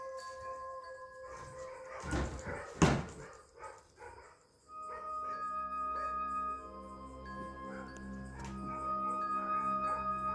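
Dogs bark and whimper in short bursts inside an abandoned house, then a long droning whine with tonal harmonics continues in a quiet, echoing space.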